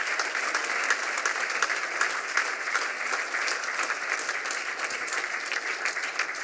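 Steady, dense applause from a sizable audience at an e-health awards ceremony, many hands clapping continuously at an even level throughout, with no voices standing out.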